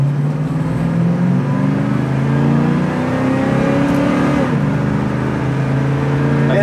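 A 1970 Camaro accelerating through the gears on the road, a loud, steady engine hum rising in pitch, then dipping at a shift before climbing again.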